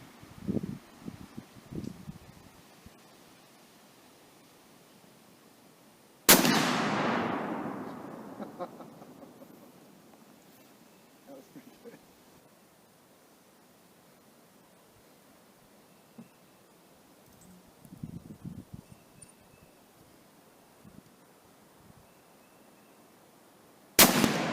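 A single loud rifle report from an EDM Arms Windrunner chambered in .408 CheyTac, a sharp crack with a long rolling decay outdoors, with quiet voices talking before and after it.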